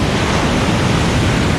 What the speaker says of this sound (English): nice waves coming in. Look at that.